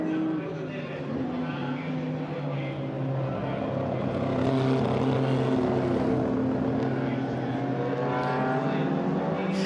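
Ferrari 250 and Maserati T61 racing at the Hungaroring, a steady loud engine drone with shifting harmonic pitch as the cars pass, with commentary spoken over it throughout.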